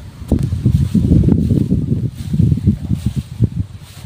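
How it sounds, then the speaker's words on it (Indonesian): Strong wind blows outdoors in the brush, roaring and buffeting the microphone in loud, uneven low gusts with faint rustling throughout and no voices. "Anginnya kencang banget."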